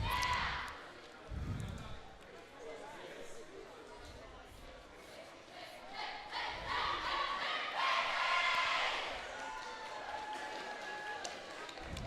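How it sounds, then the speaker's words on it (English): Roller derby team shouting a cheer together from the bench before a junior championship game, a burst of group yelling over crowd noise in a large arena, swelling then fading. "Pixies starting us off with a big cheer from the bench before they send out their starting lineup"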